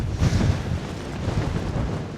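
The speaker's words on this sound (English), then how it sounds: "this wind is insane" Strong wind buffeting the microphone on a desert mountainside trail, a steady, loud roaring rush with gusty swells and no voices.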